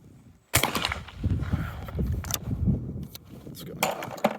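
A 12 gauge TriStar Setter S/T shotgun fires one sharp, close blast at a trap range, followed by rustling and faint clinking.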